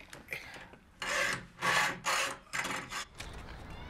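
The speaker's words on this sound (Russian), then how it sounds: "Ну что ж, тогда, может, начнем пилить, а?" Sawing by hand in a staged scene, heard as several loud rasping back-and-forth strokes in uneven bursts with short pauses between them.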